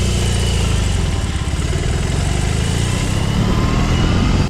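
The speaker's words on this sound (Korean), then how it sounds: "아이들링에서 BMW 박서 엔진 특유의 고동감과 엔진음이 느껴지는 것도 좋았습니다." A BMW R 18 motorcycle's boxer engine idles steadily up close, with a low, pulsing throb that holds even and continuous throughout.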